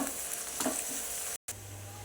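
Onions frying in a pan for a fish shana fry, a steady broadband sizzle with a short dropout near the end, no talking.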